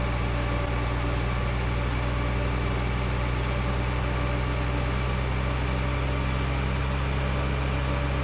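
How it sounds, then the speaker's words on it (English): A tractor engine in Farming Simulator 2013 runs steadily while climbing around a tight uphill corner, a loud, constant mechanical drone with a humming low end and no voices over it. "You can hear the revs rise on the engine as we take that corner."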